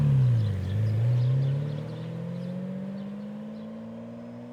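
A car arrives and draws near, its engine note sliding down and then holding at a steady low drone that slowly fades, alone with no talk.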